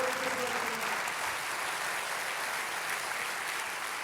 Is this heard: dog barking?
no